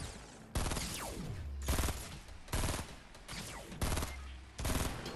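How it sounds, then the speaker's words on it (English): Fortnite gunfire cracks out in distinct bursts, each sharp onset followed by a fading ring, about five volleys spaced roughly a second apart at close range. "they're shooting"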